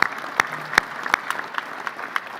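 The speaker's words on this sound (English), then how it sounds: "Round of applause for Davies." Applause at a club luncheon for the event sponsor Davies: a crowd claps steadily and close by for a couple of seconds, with sharp individual claps poking through the dense patter.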